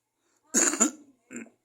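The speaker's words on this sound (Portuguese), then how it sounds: "Agora tosse, vai vendo." A single person coughs: one harsh burst followed by a smaller second cough, close and clear against silence.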